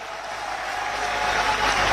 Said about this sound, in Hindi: जोरदार ताली बजाओ इस बात के लिए।